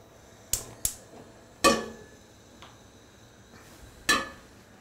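A saucepan being picked up and handled in a kitchen, giving a handful of sharp metallic knocks and clanks at uneven intervals, close and fairly loud, with quiet pauses between them.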